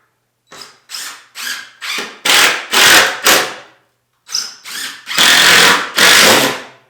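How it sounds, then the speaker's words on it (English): Three-inch screws are driven into a garage ceiling with a power drill in a series of loud, close whirring bursts. The bursts start short and choppy, grow longer, pause briefly, then return as sustained runs. "Now it's kind of like the hard part where you got to hold this thing up in place while screwing it to the ceiling."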